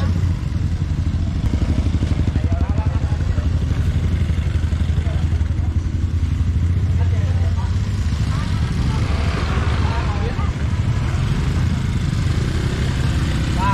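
A motorcycle rides along steadily on an outing to the Curug Koja waterfall, its engine a continuous close rumble with some rattling, while people talk over it.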